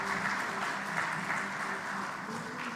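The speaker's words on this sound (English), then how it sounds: "Let's encourage her with a good round of applause as she's coming on the stage." An audience at a South African education report launch claps steadily, a dense, even patter of applause sustained throughout without any speech.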